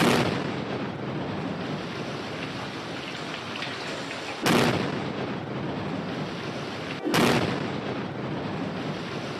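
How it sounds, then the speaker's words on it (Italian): Small controlled explosions bring down the last span of the Ritiro viaduct on the Messina ring road, two sharp distant blasts several seconds apart over a constant roaring hiss like heavy rain. "L'ultima campata del viadotto Ritiro sulla tangenziale di Messina viene giù con una serie di piccole esplosioni controllate."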